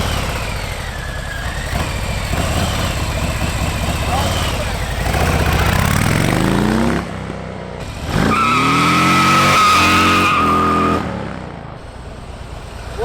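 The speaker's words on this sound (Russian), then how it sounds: "Очень отсечка интересная." A stunt motorcycle engine at stunt-riding practice revs hard in loud, sustained bursts and bounces against the rev limiter with a rattling stutter. A second long rev follows a brief dip.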